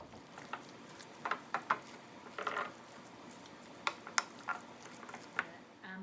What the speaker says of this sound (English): I'm just gonna stir all this up